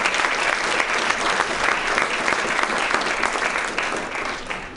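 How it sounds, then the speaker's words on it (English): Sustained audience applause at a UCI Foundation presentation, a dense, steady wash of many hands clapping from start to finish, easing slightly toward the end. "So I would just like to give a round of applause to Hazem"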